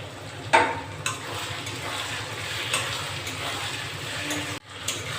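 Chopped tomato sizzles softly in a pan for dry chilli cauliflower while it is stirred, with a few sharp utensil clinks against the pan over a low, steady frying hiss.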